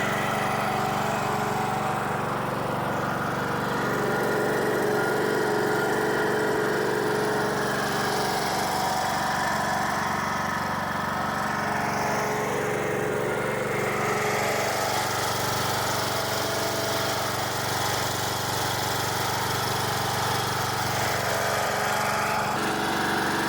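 A revived lawn mower engine runs steadily and loud at close range, a throaty droning chug that holds its pace for over twenty seconds with slight swells in pitch.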